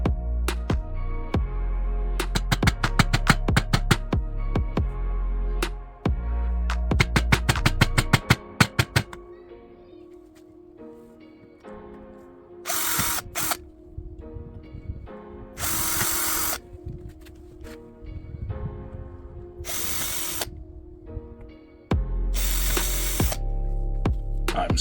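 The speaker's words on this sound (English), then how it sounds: "before you drill through the MDF" A power drill bores through taped MDF for a storage-cube door, with repeated loud bursts of whirring and grinding separated by brief pauses, the drill stepping up through bit sizes.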